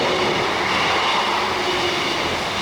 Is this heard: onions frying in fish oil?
no